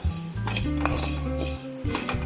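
Vermicelli being dry-roasted without oil in a heavy kadai for instant rava vermicelli dosa, with a metal spoon clinking and scraping against the pan in quick irregular strokes, close and fairly clear, no talking.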